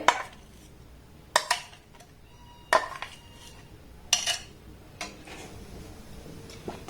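Chana dal and a hand-mixed spice mixture go into a pan in several separate clatters and thuds, roughly one every second or two, with metal utensil knocks against the pan and no talking.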